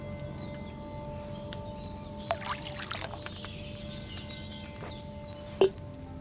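In a video game, wine is poured from a pitcher into a cauldron: a brief, faint liquid splash amid quiet ambient game sounds and a few soft clicks, with no talking.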